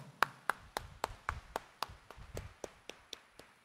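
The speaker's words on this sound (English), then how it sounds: "let us give a clap offering" Congregation clapping during a Mass at Quiapo Church in Manila, as steady, evenly spaced claps about four per second that sound soft and somewhat distant, with no talk over them.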